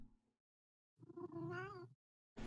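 A cat gives a single drawn-out meow, clear and fairly close, after a quiet pause, with a brief sound cutting in just after.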